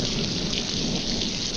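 Steady, dense jungle rainfall pours down evenly and close by, with no voices, in a 1944 tropical survival setting.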